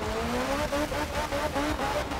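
Peugeot 205 Turbo 16 rally car in the video game Art of Rally, its engine revving up through rising harmonic sweeps with gear changes, loud and continuous with some tire noise.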